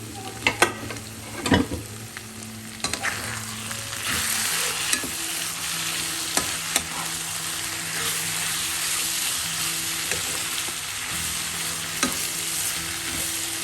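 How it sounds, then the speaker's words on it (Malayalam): Buffalo meat roast frying and sizzling in a pan as it is stirred with ground pepper and curry leaves, a steady loud sizzle with a few sharp scrapes and clacks of the spoon near the start, no talking. "ഈ സമയം 1 ടീസ്പൂൺ കുരുമുളക് പൊടിയും കുറച്ച് കറിവേപ്പിലയും കൂടെ ചേർത്ത് നമുക്ക് ഒന്നും കൂടെ ഒന്ന് ഇളക്കി കൊടുക്കാം."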